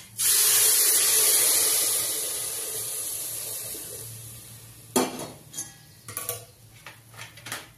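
Hot water pours from a jug into a cooking pot of cracked wheat, giving a loud, bright rushing splash that slowly tapers. A few clinks of a metal vessel and utensil follow.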